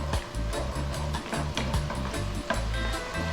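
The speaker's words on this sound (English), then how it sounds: "and the ginger along with the garlic. About 90 seconds stirring this around." Ginger and garlic are stir-fried in a pan, a continuous sizzle under repeated rhythmic scraping and tapping of a utensil, with a low humming drone running beneath.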